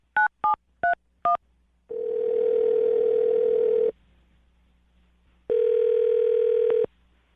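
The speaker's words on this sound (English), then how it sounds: "Well, I'm going to dial her phone number right now." A telephone dials a number with four quick, evenly spaced tone beeps, followed by two long steady ringing tones separated by a pause, clear and close with no talking.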